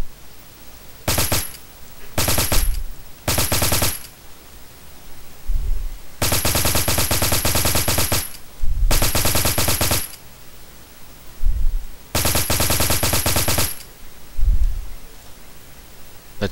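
Gunfire at a shooting range in Fallout 3, loud automatic bursts fired in several separate volleys of one to two seconds with short pauses, some single shots in between, no talking.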